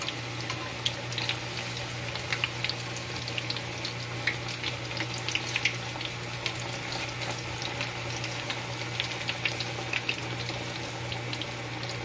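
Tofu frying in a pan for a Filipino pork mask and ear dish, a steady soft sizzle with scattered small crackles and pops, moderately quiet and continuous without talk.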